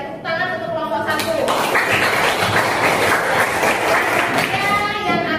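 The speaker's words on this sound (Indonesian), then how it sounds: "Sekali lagi tepuk tangan untuk kelompok 1." A seventh-grade classroom breaks into applause for a student group after its presentation, a dense burst of many hands clapping close by that swells quickly and carries on steadily over a teacher's voice.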